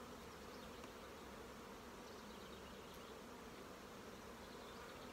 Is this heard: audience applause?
no